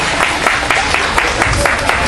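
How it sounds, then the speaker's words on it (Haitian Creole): Steady applause from a crowd, dense clapping throughout with a few sharper claps standing out. "Bravo. Applaudissements."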